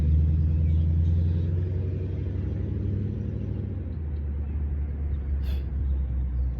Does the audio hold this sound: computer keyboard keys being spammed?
no